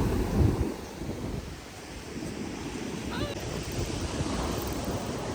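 Sea waves on a clean, light-blue beach in Oman with pebbles, a steady close roar of surf washing ashore mixed with wind buffeting the microphone, continuous throughout with no talk.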